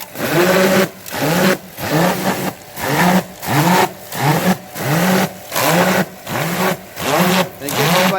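An engine is revved repeatedly in short, regular bursts, each rising and falling, about a dozen blips in quick rhythm, loud and close.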